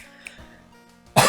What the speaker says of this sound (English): Excuse me while I cough a lot, because, yeah, I'm coughing a lot.